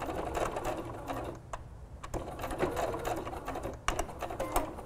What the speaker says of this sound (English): So I'm going to backstitch again